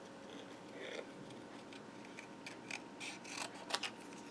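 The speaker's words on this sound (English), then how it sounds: "Okay, I'm going to cut this part off," Scissors snipping card stock for a spinner card, a faint series of small crisp cuts and clicks over a quiet background hiss, growing slightly busier toward the end.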